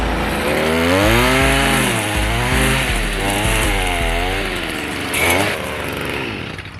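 Small gasoline engine that has been primed and choked. It is running, a close, buzzy, chainsaw-like note whose pitch wavers up and down as the revs change, with a sharper burst near the end.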